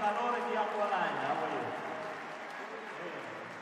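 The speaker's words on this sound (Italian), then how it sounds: "Più forte questi applausi, grazie." A live show audience in Acqualagna claps, the applause starting fairly full and then thinning out, faint and mixed with a host's talking.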